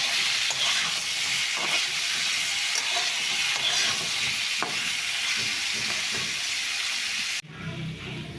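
Mixed vegetables with turmeric fry in a pan, a loud, steady hiss with occasional stirring scrapes that drops away suddenly near the end.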